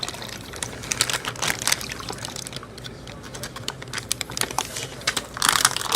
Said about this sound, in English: It would have been simpler probably to pour the water in some other way, but this is going to work just fine.